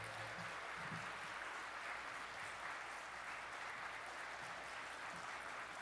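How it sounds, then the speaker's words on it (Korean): A church congregation gives the pastor a warm welcoming round of applause, a dense, steady wash of many hands clapping that fills the room throughout, with no talking over it. "우렁찬 박수로 목사님 맞이하겠습니다"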